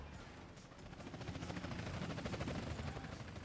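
A police helicopter in Grand Theft Auto: San Andreas during a four-star wanted-level chase, its rotor chopping in a steady rapid pulse that grows louder, mixed with bursts of gunfire-like crackle and no speech.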